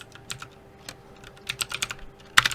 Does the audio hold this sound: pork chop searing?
no